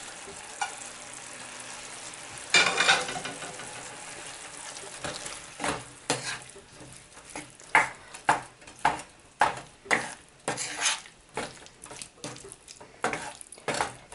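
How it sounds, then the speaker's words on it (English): Boiled potatoes fry in a pan with spices, a continuous sizzle broken by a series of sharp, rhythmic scraping stirs of a utensil against the pan, close and fairly loud with no talking. "it's the time for adding boiled potatoes"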